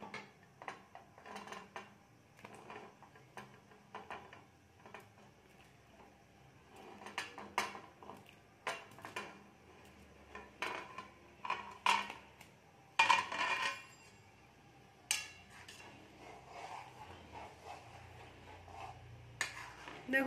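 Muitha pitha rice dumplings dropped into a pot of boiling milk, with repeated clinks and scrapes of a utensil against the metal pot, sharp knocks scattered across the clip and faint bubbling underneath.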